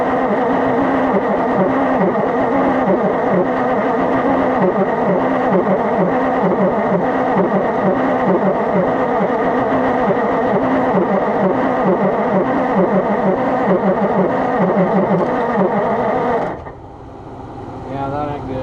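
An Oliver Super 77 salvage-yard tractor with a questionable carburetor runs steadily and loudly up close, its engine chugging with a dense rhythmic drone that cuts off abruptly near the end, leaving quieter rumble.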